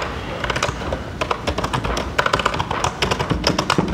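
Fingers typing on a Pinebook Pro laptop keyboard, with quick, uneven bursts of close, crisp key taps that continue steadily with brief pauses between strokes.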